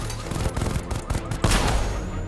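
The Batmobile's guns in Arkham Knight fire in bursts at a drone: rapid rattling shots in uneven clusters, then a louder blast near the end, moderately loud, with no talk.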